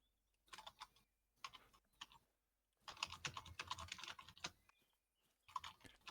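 Bursts of rapid keyboard typing on a computer during a multiplayer hunting game session, clustered clacks in several runs separated by short pauses, fairly close and moderate in volume with no talk.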